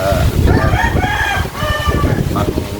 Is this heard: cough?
no